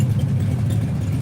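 GMC vehicle engine running, a steady low rumble close by with no talk over it.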